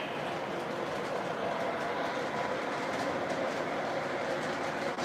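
A big O-gauge model steam locomotive, a GS4, circles a layout with a steady rolling rumble and continuous clickety-clack of wheels on track, close and loud, with no pauses.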